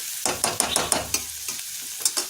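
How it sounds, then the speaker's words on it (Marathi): Chopped onion fries in a pan for egg bhurji, with close, repeated stirring scrapes in quick strokes over a crackling sizzle. "कांदा थोडा भाजत आलेला आहे"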